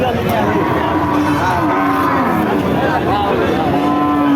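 Cattle at a crowded cow market, a long low moo sliding through the middle of the clip, loud and close, with someone talking over it and constant crowd noise behind.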